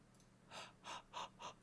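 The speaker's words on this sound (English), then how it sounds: "Oh no, I'm yawning again." Several breathy inhalation-like bursts in a drawn-out yawn, close and soft, repeating about four times with no talk.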